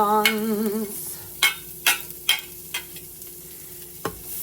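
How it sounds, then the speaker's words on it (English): Onions stirred in a hot pan, with several scraping utensil strokes over a faint, steady sizzle and a brief tonal hum at the start. "let's cook up the onions"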